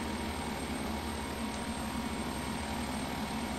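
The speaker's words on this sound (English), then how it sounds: "From the sound of the engines, this is a turboprop aircraft." Twin turboprop engines of an IAI 201 Arava in the FSX flight simulator drone at a steady, constant level, a low throbbing hum with a faint high whine and no talk over it.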